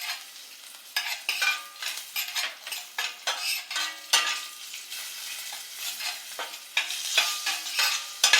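Spices with asafoetida and turmeric sauté in a pan for raw mango rice, a soft sizzle broken by repeated scraping strokes of a spoon against the metal. The stirring is uneven and close, and nobody speaks.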